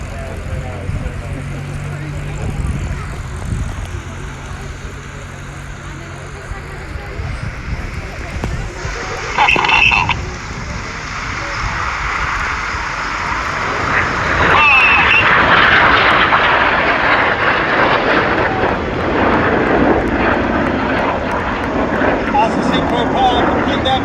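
Red Arrows jets flying opposition barrel rolls, a broad jet roar building from distant to loud and sustained, heard under a commentator's talk.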